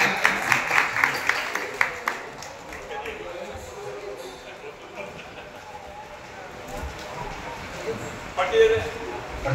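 A crowd at a coupon prize draw claps in a short burst of sharp, loud claps at the start, then fades into murmuring and talk, with a few scattered claps later.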